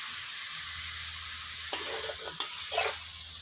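Papaya stir-fried with egg in a pan gives a steady close sizzle, and a few scraping stirs and turns of the spatula come through near the end, with no talk.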